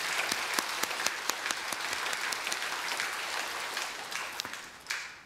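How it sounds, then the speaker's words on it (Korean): A Korean church congregation at a Sunday worship service claps together, with sharp individual claps standing out over a dense, moderately loud round of applause that tapers near the end. "우리 그 감사의 의미로 박수 한번 칠까요?"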